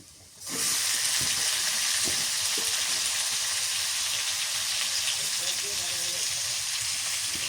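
Hilsa fish dropped into hot oil bursts into a loud, steady hissing sizzle that starts abruptly and holds continuously, close up, with faint voices and light clinks underneath.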